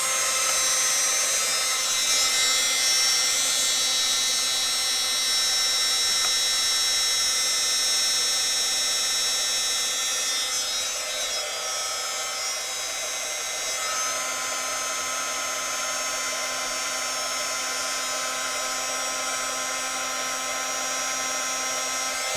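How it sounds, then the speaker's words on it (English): A heat gun blows steadily and loudly nearby, a continuous whirring hiss of fan and air with a slight shift in pitch partway through, no voices. "I need to heat up my heat gun."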